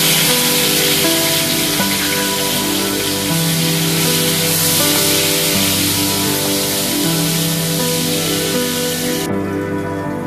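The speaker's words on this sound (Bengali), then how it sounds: "এবারে লবণ হলুদ মেখে রাখা ছুরি মাছের শুটকিগুলোকে ভেজে নিব।" Salted dried ribbonfish coated in salt and turmeric fries in hot cooking oil in a wok, giving a loud, steady, dense sizzle that runs continuously and cuts off abruptly near the end.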